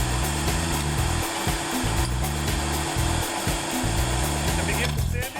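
A Ryobi desktop belt sander runs with an industrial vacuum attached, giving a loud, steady whining hum with a pulsing low rumble throughout.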